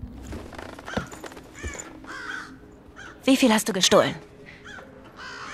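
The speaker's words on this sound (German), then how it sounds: "da ist der Vogel, der tut dann alarmieren, wenn wir zu laut sind" A crow gives harsh alarm caws in the stealth game Thief, in repeated short bursts mixed in with German character dialogue.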